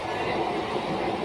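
Train passing at night, a loud continuous rumble of rail cars with clattering wheels, close and steady throughout the short stretch.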